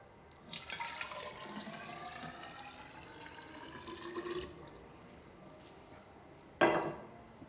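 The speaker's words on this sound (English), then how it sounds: "Fill the measuring cylinder with water." Water poured into a measuring cylinder, a soft trickling fill for a few seconds followed by quieter drips and a short clink near the end.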